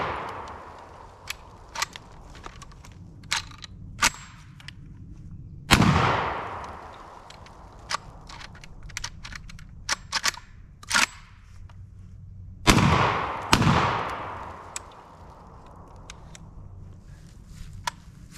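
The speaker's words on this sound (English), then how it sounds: "So we're going to see if we can hit these clay targets, see if it'll cycle" A Fostech Origin 12 shotgun fires at clay targets outdoors with two loud, sharp blasts that ring out and decay, separated by about seven seconds, amid scattered clicks and handling noises.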